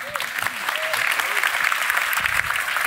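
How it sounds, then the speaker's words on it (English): Steady warm audience applause welcoming environmental writer George Monbiot at a talk, a dense wash of clapping from a crowd filling the room, fairly loud and sustained, with faint voices underneath. "Please give him a very warm applause."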